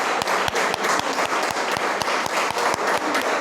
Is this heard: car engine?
no